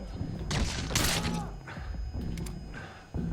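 Gunfire and mechanical clatter fill a firefight in the stealth-action game Metal Gear Solid V: The Phantom Pain, with dense bursts of shots and thuds under a player's excited shouting.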